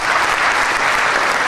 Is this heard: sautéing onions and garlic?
no